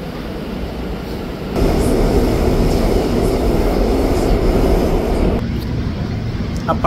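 Seoul Line 4 subway train running, a dense steady rumble that swells suddenly into louder track roar and then eases back partway, heard from inside the car.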